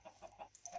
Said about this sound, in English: I'm just putting him in here with the chickens